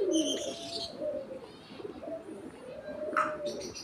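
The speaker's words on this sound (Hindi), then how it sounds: "ये मेरे लक्के कबूतर हैं" Lakka fantail pigeons coo in low, rolling repeated calls close by, with a few brighter chirps from other caged birds mixed in over a steady background.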